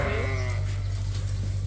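A large group of sheep held in a confinement pen at feeding time; one short bleat rises at the start over a steady, loud low hum that runs throughout.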